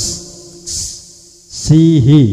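A voice utters short hissy syllables and then a sung tone through an Alesis effects unit, each followed by a long reverberant echo that lingers and fades.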